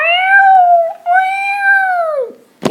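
A loud, close cat meow stretches out twice in quick succession, each call long and wavering, followed by a short sharp click at the end.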